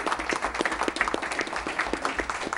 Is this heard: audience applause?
yes